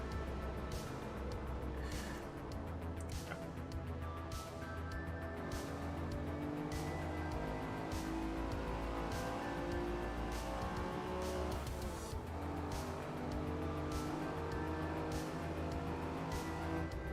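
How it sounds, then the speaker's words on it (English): A car in the video game Midnight Cruise drives continuously with a steady engine drone, shifting pitch as it speeds up and slows, and occasional faint tire noise. No one speaks. "this car's a bit difficult to drive"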